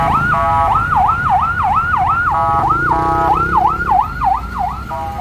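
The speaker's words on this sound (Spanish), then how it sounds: "Hoy la ambulancia, ¿y qué emergencia trae?" An ambulance siren wails in a rising and falling cycle, loud and close, moving through heavy traffic in Guatemala over a low rumble of engines.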